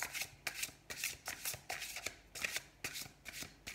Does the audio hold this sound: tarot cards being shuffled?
yes